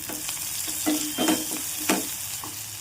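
Curry leaves and garlic frying in oil in a pan, an even close sizzle punctuated by several quick scraping stirs of a spoon, no voices.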